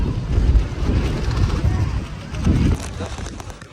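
Strong monsoon wind buffets the microphone at the Saputara hill viewpoint, producing loud, gusting low rumbles that swell and ease, strongest near the start and again after the middle.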